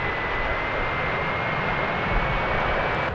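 An American Airlines passenger jet at DFW Airport gives a steady roaring engine rumble throughout, broad and constant, heard from a distance outdoors.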